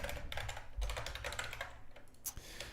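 Rapid, close-up typing on a computer keyboard, a dense run of crisp key clicks with brief pauses, heard alone at low volume.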